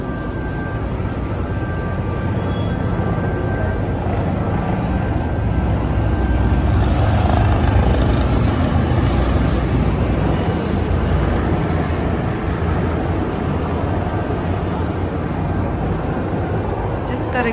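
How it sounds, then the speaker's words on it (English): A helicopter flies over Rome, heard from inside a hotel room behind double-glazed windows as a steady, muffled rotor rumble that swells slightly midway and holds throughout. "Just got a glimpse of that helicopter."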